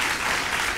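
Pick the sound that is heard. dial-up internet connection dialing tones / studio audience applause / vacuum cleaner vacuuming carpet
studio audience applause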